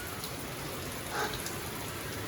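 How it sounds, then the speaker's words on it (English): Steady pouring rain during a storm, a dense continuous hiss of drops drumming on surfaces, fairly even throughout with no voices. "It's pouring rain."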